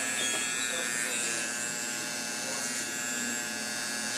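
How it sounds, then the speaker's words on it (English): Electric hair trimmer cleaning up the edges during a haircut, a steady close high-pitched buzz that holds for the whole stretch with faint movement underneath. "letting the trimmer do the work"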